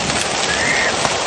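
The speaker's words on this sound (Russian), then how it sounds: "Озеро Кульсай. Град." Hail falls at Kolsay Lake, a dense loud clatter of hailstones striking hard surfaces nearby, continuous through the brief moment.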